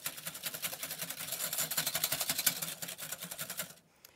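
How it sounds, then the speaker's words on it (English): An electric mixer whips egg yolks for a fluffy omelette with a fast, pulsing whir that rattles against the bowl close up, then cuts off abruptly near the end. "Next, you whip up the yolks"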